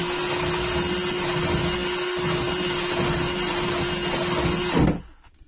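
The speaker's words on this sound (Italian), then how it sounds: "E allora invece questo lavoro qui di allargarlo lo devo fare con la fresa a mano." A handheld rotary tool with an abrasive bit grinds to widen an opening for a cover plate. It gives a steady high whine close by, then winds down sharply near the end.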